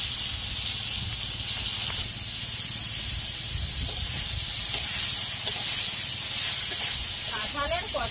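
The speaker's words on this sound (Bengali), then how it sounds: "এবার কাঁকরুলগুলো ভাজা করে দেবো।" Spiny gourds fry in oil in a wok over a village clay stove, producing a loud, continuous, close hiss, with a brief voice near the end.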